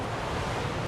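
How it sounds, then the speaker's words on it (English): Strong 35-mile-an-hour wind roars at a cruise port where a ship is docked beside another large cruise ship, a loud steady rush of wind noise buffeting the microphone without speech. "I don't think it's any match for these 35-mile-an-hour winds"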